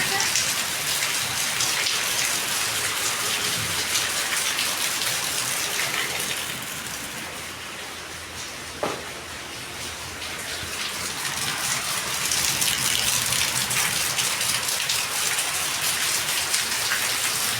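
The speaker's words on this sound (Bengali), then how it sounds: "এখনো বৃষ্টি হচ্ছে।" Steady rain falls during a storm in Jhenaidah, a dense continuous hiss of drops on surfaces that eases slightly midway before building back to full strength, with one brief knock near the middle.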